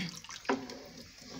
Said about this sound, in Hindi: पानी डाल दिया इसके अंदर,